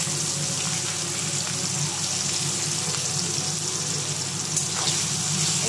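Chopped onion frying in a pan, giving a steady, dense hiss and sizzle that holds evenly throughout with no talking.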